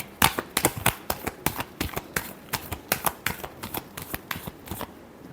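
Tarot cards are shuffled by hand in quick bursts of crisp riffling flutters and slaps, close and clear, about a dozen sharp strokes in a fairly even rhythm.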